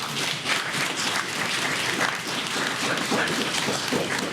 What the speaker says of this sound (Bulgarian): Моля още веднъж за аплодисменти за тях.